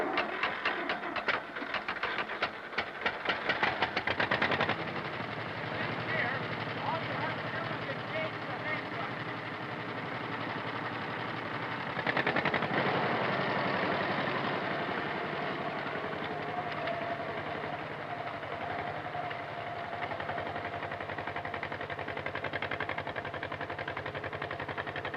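A 1950 John Deere tractor engine cranks with a rapid ragged chatter for a few seconds, then catches and settles into a steady running drone, with a brief surge midway, while someone narrates over it.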